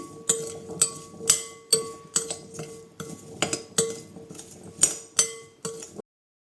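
A utensil stirs ingredients in a bowl with salt, oregano and ras el hanout, rapping the sides over and over. It gives a steady rhythm of bright clinks and scrapes, close and clear, before stopping abruptly.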